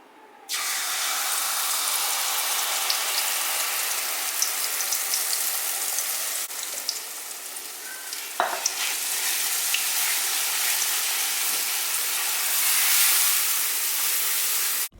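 Urad dal batter poured into hot sesame oil in a pan sets off a loud, continuous close-up sizzle and hiss that holds steady for the whole stretch, with a few faint utensil knocks.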